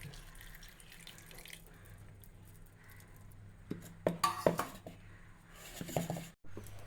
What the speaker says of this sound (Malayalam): ഈ കുതിർത്ത വെള്ളം ഒഴിച്ച് കൊടുക്കാം